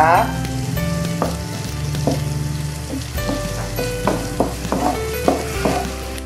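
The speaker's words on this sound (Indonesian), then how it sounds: "masak sampai matang pemirsa di rumah sampai udangnya berubah warna ya" Shrimp frying in a pan for an Indomie carbonara, a steady sizzle with sharp spitting pops and metallic clinks of a spatula stirring, close and busy throughout.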